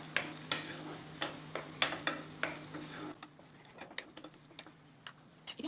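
Tomato puree sizzles in hot desi ghee in a pan, a soft crackling fry with scattered clicks that drops quieter partway through, with no talking.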